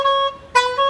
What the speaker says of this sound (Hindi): भाई अब हॉर्न चेंज कर देते हैं इससे।